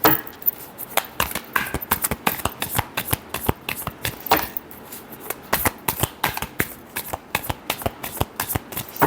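Tarot cards are shuffled by hand in a steady run of crisp, riffling flutters and slaps, close and fairly loud, repeating quickly for the whole stretch with no talking.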